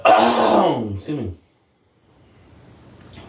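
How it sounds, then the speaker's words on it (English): A person clears their throat with a short, harsh vocal rasp, followed by near silence and faint background hiss. "Forgive me for clearing my throat and stuff"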